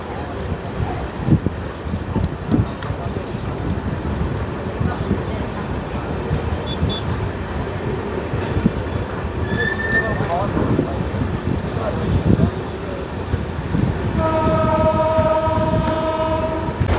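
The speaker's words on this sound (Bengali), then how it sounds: "ট্রেন ছেড়ে যাচ্ছে।" A passenger train pulls out of a station after a short halt, its rumble and wheel noise building steadily while a long sustained horn blast sounds near the end.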